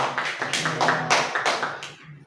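A small group in a classroom claps for a presenter, a quick burst of roughly a dozen close hand claps lasting about two seconds and fading out at the end, with no voices over it.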